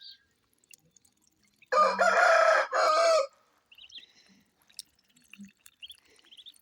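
A hen lets out a short burst of loud squawking clucks, then quieter scattered clucks and peeps follow in an otherwise quiet yard.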